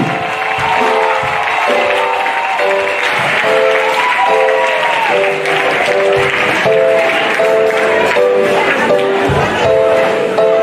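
A church congregation in Abidjan stands to acclaim Jesus, filling the space with loud, sustained applause and cheering throughout, with voices and tonal music running underneath the crowd.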